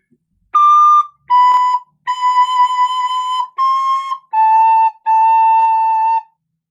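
A recorder plays the opening phrase of Lightly Row: six clear, steady, breathy tones, the first few short and the rest longer, stepping down in pitch, close and alone.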